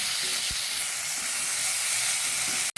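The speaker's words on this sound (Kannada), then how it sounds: "ರುಚಿಗೆ ತಕ್ಕಷ್ಟು ಉಪ್ಪನ್ನು ಹಾಕ್ಕೊಂಡು ಇದನ್ನು ಚೆನ್ನಾಗಿ ಕುದಿಸ್ಕೊಳ್ಳೋಣ" Salted raw mango and rice mixture cooking in a pot, giving a steady close hiss and bubbling sizzle with a couple of faint knocks, continuous until a sudden cut near the end.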